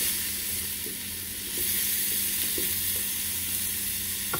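Chopped tomato sizzling and frying steadily in a pan with salt, a continuous close hiss with occasional faint stirring taps.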